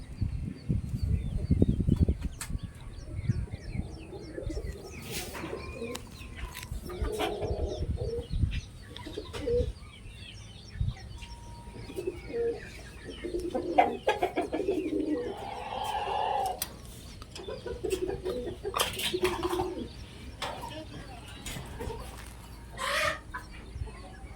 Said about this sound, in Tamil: இது இன்னொரு சேவலுங்க, இதுவும் கட்டு சேவல் தான்.